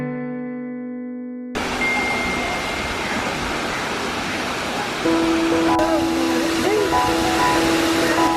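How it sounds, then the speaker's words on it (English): Thirparappu Waterfalls near Nagercoil in Kanyakumari roars as a dense, continuous rush of falling water. It bursts in after a brief tonal lead-in and holds steady, with faint tonal sounds drifting over it later. "This is Thirparappu Waterfalls, and by far the best waterfalls I have ever been"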